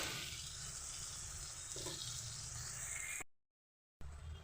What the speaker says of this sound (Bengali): আবারও আমি ভালো করে একটু নাড়াচাড়া করে